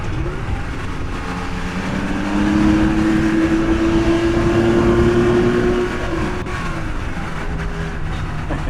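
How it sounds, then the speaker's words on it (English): An air-cooled Porsche 911 pulls hard from second into third gear on a twisty road, its engine note rising steadily, swelling louder mid-run and easing after the shift, heard up close with no talk. "Just ripping from second to third on these twisties is a heck of a lot of fun."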